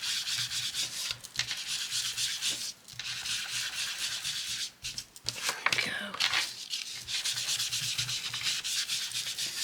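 Paper ephemera being inked and distressed by rubbing, repeated close scratchy swipes and scuffs in uneven strokes with brief pauses, with a quiet voice in places.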